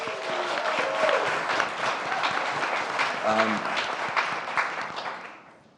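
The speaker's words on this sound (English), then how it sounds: "Give Sam a big round of applause." Audience applause at a tech and economics conference panel, a sustained dense wash of many hands clapping that swells early and then fades out near the end.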